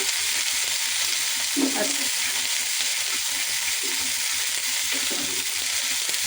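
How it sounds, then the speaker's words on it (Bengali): Spice paste fries in hot oil for a Bengali fish curry, a continuous close sizzle with a couple of stirring knocks; a single spoken word is heard briefly. "বন্ধুরা, মাছ রান্না করার জন্য তেলের পরে আমি মশলাটা ছেড়ে দিলাম।"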